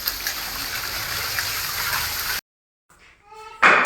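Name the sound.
water running, washing a house wall and ceiling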